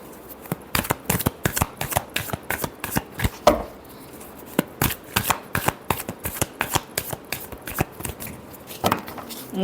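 Tarot cards are shuffled by hand in a series of quick, crisp riffling bursts with short pauses between them, close and fairly quiet, with no talking.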